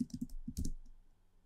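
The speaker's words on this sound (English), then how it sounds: "I can type, hello, I'm typing on a line" Keys on a computer keyboard are tapped in a quick, close burst of about half a dozen soft clicks, then fall silent.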